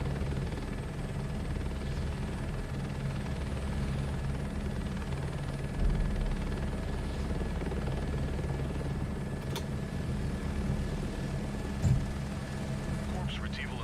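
Helicopter in Microsoft Flight Simulator 2024, played in VR, a steady low rotor and engine drone holding throughout at moderate level, with a couple of small knocks and a voice talking over it at times.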